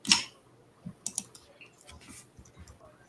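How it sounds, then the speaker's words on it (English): Typewriter keys clacking in a short, irregular burst of sharp clicks, fairly close and alone with no talk over them. "Was that an actual typewriter?"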